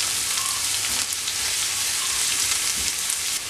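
Garlic and ginger fry in a hot pan for a guava pickle, giving a steady, even sizzle with a faint crackle throughout and no talking.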